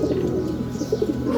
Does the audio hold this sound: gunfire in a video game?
no